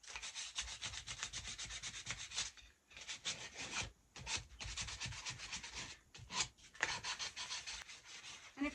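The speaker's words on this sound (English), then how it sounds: "we're just going to do a little sanding of the paint" Rapid back-and-forth sanding strokes rasp against painted wood, close and rhythmic, broken by a few brief pauses.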